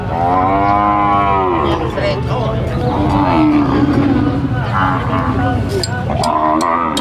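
Cattle low and moo loudly at a busy livestock market, several drawn-out calls rising and falling close by over constant crowd murmur and background noise, with someone talking between them.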